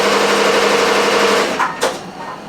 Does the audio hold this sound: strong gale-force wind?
no